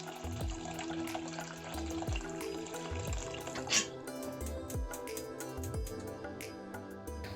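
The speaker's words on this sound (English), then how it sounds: "pour in some more water so that we can boil them" Water runs from a tap into a pot for boiling cauliflower, a faint steady trickle and splash that continues throughout over a soft background with a repeated low thumping pulse.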